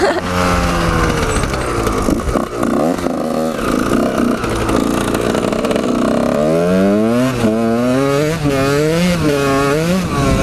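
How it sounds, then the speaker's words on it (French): A motorcycle engine revs loudly and continuously, its pitch climbing and falling in repeated surges toward the end, close by. "Fait gueuler la moto un peu"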